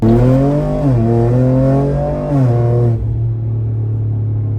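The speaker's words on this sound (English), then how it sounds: "If you're insulted by exhaust noise, don't buy the dump pipes." A twin-turbo V6 petrol Ford Ranger Raptor with dump pipes rumbles loudly and steadily with a deep, throaty exhaust, its pitch stepping up and down as the engine revs, then settling into a heavy idle.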